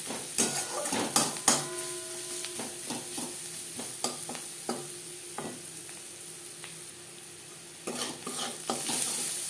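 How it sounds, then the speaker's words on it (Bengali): Onions with turmeric fry in a pan, giving a soft sizzle broken by the repeated scrape and clink of a spoon stirring. The scraping comes in bursts, quieter in the middle and picking up again near the end. "পেঁয়াজ বেশ ভালো করে ভাজা হয়ে গেছে।"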